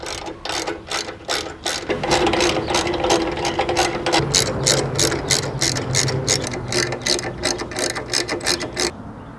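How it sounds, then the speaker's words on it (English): Ratchet wrench tightening the four motorcycle mount bolts, two on each side, a fast steady run of loud close clicks lasting throughout with no talk. "lastly, I just gotta tighten up the four bolts, the two on each side"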